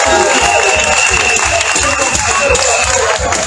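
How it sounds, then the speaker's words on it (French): Loud crowd applause at an outdoor political rally in Côte d'Ivoire, a dense, sustained wash of clapping and cheering from a large gathering, close and unbroken for the whole stretch. "Il faut applaudir le comité très fort"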